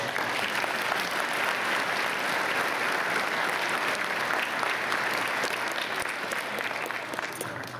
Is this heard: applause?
yes